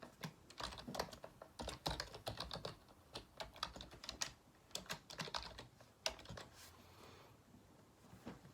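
Keystrokes on a computer keyboard entering a document title in Microsoft Word, a quick irregular run of close, crisp clicks that slows and tapers off near the end, with no talking.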